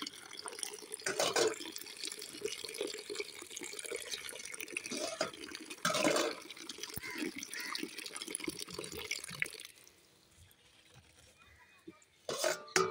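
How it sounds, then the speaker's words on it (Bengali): Bottle gourd stalks are rinsed again under a steady stream of running tap water, splashing and trickling continuously at close range before the flow stops near the end and then briefly resumes. "দেখো ডাটাগুলো আমি আরেকবার ধুয়ে নিই।"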